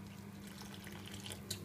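Water poured from a tap into a paella pan of thickening stock, a faint, steady splashing stream lasting under two seconds with no other sound.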